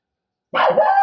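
A dog barks once, close and loud, a sudden harsh bark that breaks a half second of silence and then trails off into a brief whine.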